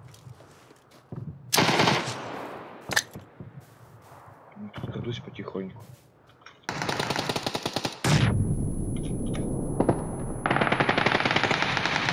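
Gunfire in PlayerUnknown's Battlegrounds, with bursts of automatic shots breaking out between stretches of quiet, loud and sustained in the second half while players talk over it.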